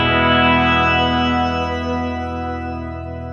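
A guitar played through the shimmer reverb on a Tone Master Pro rings out as a sustained chord with soft, shimmering upper octaves, loud and even as it slowly fades with no voices.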